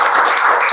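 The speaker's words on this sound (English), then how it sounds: "Give applause, guys" Brief burst of dense, even applause from an audience at a grade 6 debate semifinal, loud and close with no talking.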